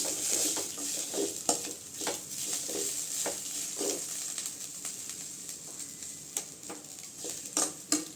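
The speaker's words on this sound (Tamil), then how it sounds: "இப்போ மல்லியில் தூவிக்கலாங்க லைட்டாக கிண்டி விட்டுக்கலாம் அப்படி" Bread chilli with coriander is stirred in a pan, giving soft scraping strokes and light clinks of a utensil over a steady faint sizzle.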